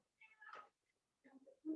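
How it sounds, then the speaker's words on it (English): A cat meowing indoors, two or three short, fairly close cries separated by brief silence, moderately quiet with no talk over them. "my cat just came in and she's making a lot of noise"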